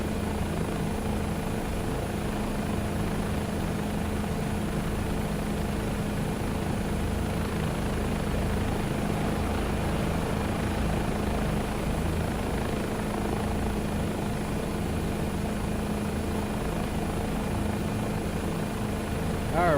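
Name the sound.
Bell 407 helicopter engine and rotor in Microsoft Flight Simulator 2024 video game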